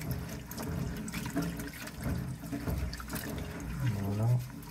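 Edamame pods are kneaded by hand in water, giving soft continuous sloshing and splashing close by, while a person speaks over it.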